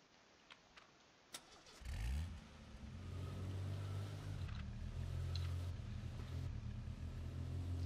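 A car engine in the video game H1Z1 starts after a few faint clicks, then settles into a steady, rising idle and rumble that grows louder and holds throughout.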